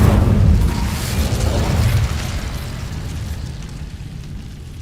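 A fire spell erupts in Hogwarts Legacy with a loud, deep boom that rolls out into a dense rumble and slowly decays over several seconds.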